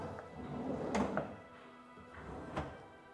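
A kitchen drawer in a house for sale slides and thunks shut, with a few soft knocks and a second bump near the end, close and moderately quiet.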